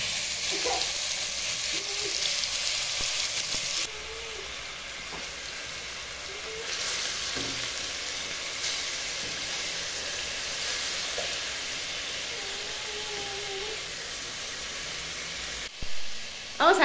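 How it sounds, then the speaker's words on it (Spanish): Beef strips for Peruvian lomo saltado frying in a pan, a steady, fairly quiet sizzle and hiss that runs throughout, with a few brief clatters near the end. "acá la sartén vamos a echarle el lomito"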